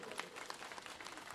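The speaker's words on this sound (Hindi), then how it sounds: "आप लोगों से भी चाहूं कि सबके लिए जोरदार ताली बजा दो एक बार" Crowd applauding at a BJP public rally in Rajasthan, a dense patter of many hands clapping steadily throughout, fairly distant and even in level.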